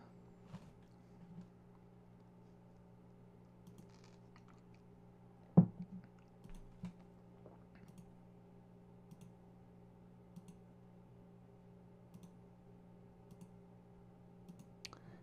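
A computer mouse clicks sparsely, with one sharper, louder click among faint, scattered taps over a steady low electrical hum in a quiet room.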